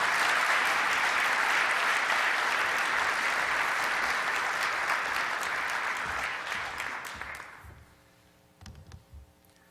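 A conference audience at CNU21 applauds steadily to welcome speaker Richard Louv, a dense, even wash of clapping that holds for several seconds before thinning out and stopping.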